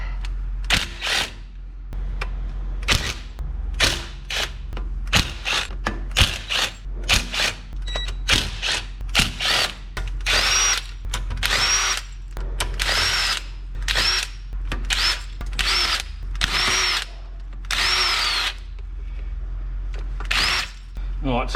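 Power tool, likely an impact driver, undoing the nuts on an 80 Series Landcruiser swivel hub, loud repeated bursts of whirring and rattling in a workshop, with short pauses between and occasional talk underneath.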